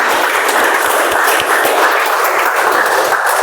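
Audience applause welcoming the first speaker at a Toastmasters speech marathon meeting: loud, dense, sustained clapping from a crowd in a hall, steady throughout with no voices.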